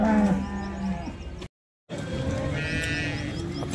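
Cows at the Sangola cattle market low in long tonal moos, one near call then another after a short gap, over a busy background of crowd murmur.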